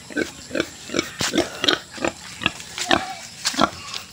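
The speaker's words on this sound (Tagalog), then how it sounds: "Ito, inalaga ang baboy." A pig kept at a rural house in Masbate grunts and squeals up close in quick, repeated bursts about twice a second, loud and clear with no voices.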